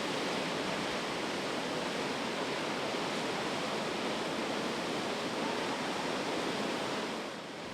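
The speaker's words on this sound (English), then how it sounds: "the power, the rush of the water, the sounding roar of the water" High Falls Gorge waterfall roaring with a dense, steady wash of rushing water, loud and unbroken from start to finish with no voices.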